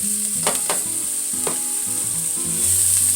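Chopped onion and grated carrot sizzle steadily in a hot pan, with a few spoon-stirring scrapes and clicks over the constant frying hiss.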